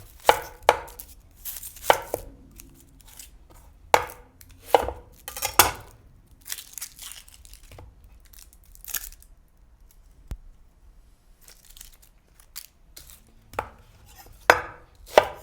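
An onion is cut into big chunks on a cutting board for corned beef brisket, a series of crisp, close knife chops in uneven bursts with pauses between them and no talk.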